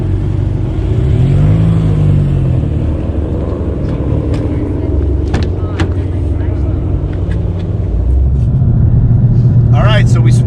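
A green 2020 Shelby GT500 with its 760-horsepower engine growls and revs steadily while driving on Angeles Crest Highway, a loud continuous rumble with rising pitch swells, under occasional talk.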